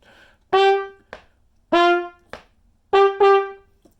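Trumpet plays the low notes closing the last two measures of a fifth-grade trumpet part: five clear, separate tones in a short phrase, each bright and ringing, close and alone.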